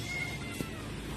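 A rescued stray cat, one of more than ten picked up from the road, gives a single short meow about halfway through, fairly faint against steady background noise.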